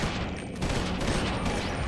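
An assault rifle in the video game Eternal Darkness fires in a rapid, continuous stream, a dense rattle of shots held at moderate loudness from start to finish with no talking.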